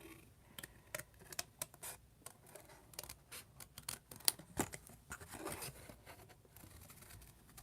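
Scissors snip through paper and cardstock while trimming pieces for a slimline card, a close, irregular run of crisp cuts and light rustling with short pauses between them and no voices.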